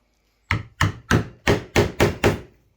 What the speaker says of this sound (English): So we hammer that in, a bit of a downward angle, as close to the head of the nail as we can